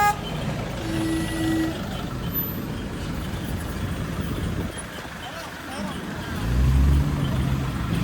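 A Toyota Innova car pulls up on a road near Jejuri; a continuous engine and traffic rumble fills the scene, with a brief tonal toot early on and the noise swelling again near the end.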